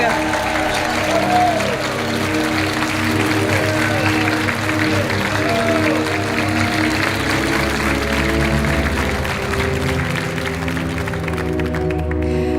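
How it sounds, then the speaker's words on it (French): Studio audience clapping as contestants leave the Money Drop game show set, a steady moderate applause running beneath a loud musical theme. "On vous laisse repartir sous les applaudissements du public."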